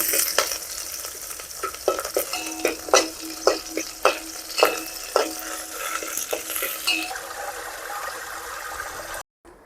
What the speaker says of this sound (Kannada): ಹಸಿಮೆಣಸಿನ್ಕಾಯಿ ಮತ್ತು ಶುಂಠಿ ತುರಿದಿಟ್ಕೊಂಡಿರೋದು, ಇದನ್ನು ಸ್ವಲ್ಪ ಫ್ರೈ ಮಾಡ್ಕೋಬೇಕು.